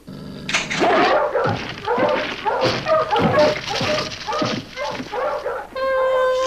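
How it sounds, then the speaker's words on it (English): Several dogs bark and yip in a rapid, overlapping string of loud, close calls, with a whimpering tone near the end. "More than one dog, and coming closer."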